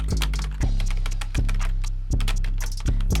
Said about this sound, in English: on the text I'm gonna type, let's say the name of this beat is called Body the Beat